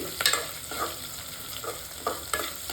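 Broken wheat frying in a pan for broken wheat rice, with soft, faint sizzling and a few light scraping stirs of a spoon recurring every second or so.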